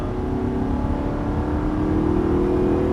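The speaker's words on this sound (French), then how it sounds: "On serre à gauche et on accélère progressivement." Audi R8 with the 4.2 FSI V8 accelerating progressively, the engine note rising steadily in a smooth, continuous drone heard from inside the car with no talk.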